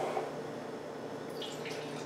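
Holy Roller beer, a New England style brew, pours from a 16.9 oz or 19.2 oz can into a glass, a quiet steady trickle and gurgle of liquid with faint fizzing, close and soft.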